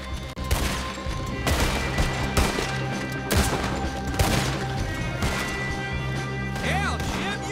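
Dense gunfire in the Red Dead Redemption 2 video game, with rapid overlapping shots, cracks and impacts in a loud, sustained barrage, and a voice briefly heard within the din.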